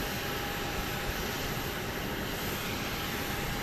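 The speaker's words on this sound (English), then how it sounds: "That was NetJet's flight 981 going to Chicago O'Hare on a Cessna Citation" A NetJets Cessna Citation Latitude jet at Dallas Love Field at night produces a steady, loud engine roar with constant broadband rumble and no pauses.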